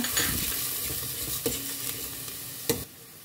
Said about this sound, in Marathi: सो एक धाकटोसो कांदो न्ही चॉप करून घेतलो ते घालता तो मातसो कांदो न्ही हांव 1-2 मिनटां एका फ्राय करून घेता